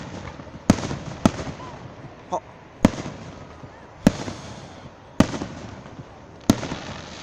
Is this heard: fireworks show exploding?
yes